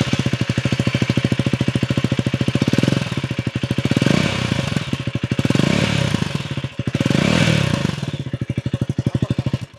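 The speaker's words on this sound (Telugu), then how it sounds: "ప్రస్తుతం మన మైక్ని అక్కడ పెట్టి దాని యొక్క ఎగ్జాస్ట్ ఒకసారి ఇందాం." A KTM 390 Adventure X motorcycle's exhaust, recorded up close at the pipe: a loud, rapid, even single-cylinder thump at idle, swelling into several short revs before settling back.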